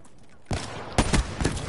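Video game gunfire: after a quiet start, a loud burst of rapid shots hits sharply, followed by several more close cracks in quick succession, with no talk.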